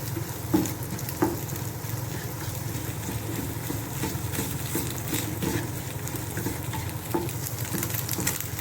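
Eggs frying in a pan with a pinch of salt as egg fried rice is made, giving a steady low sizzle with a few clatters of stirring, no talk.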